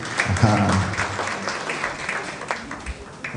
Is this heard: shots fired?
no